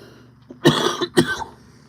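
Two sharp, close coughs in quick succession, loud and dry, with a small throat sound just before them and quiet afterward.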